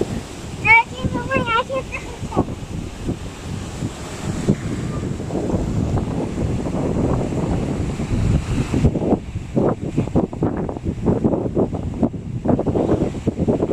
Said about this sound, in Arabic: الحين يجي المويه عليه الموج ويجي يمسح جميع الرسم تبع حماده